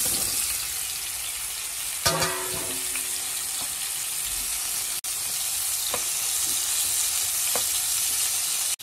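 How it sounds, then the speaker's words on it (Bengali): Salted, turmeric-coated pointed gourd (potol) pieces fry in oil in a pan, a steady close sizzle running throughout, broken by a few clinks and scrapes of stirring early on. "আর এদিকে করব পটল ভাজা।"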